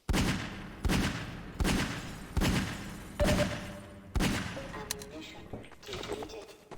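Video game gunfire shoots at crates: five evenly spaced heavy shots ring out with decaying tails, followed by scattered clatter and debris-like impacts at the end.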